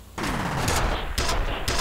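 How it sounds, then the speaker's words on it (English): Gunfire in the video game F.E.A.R., a close, loud volley of sharp shots in quick bursts with brief gaps between them, with no voices over it. "I'm burning ammo like crazy with this gun"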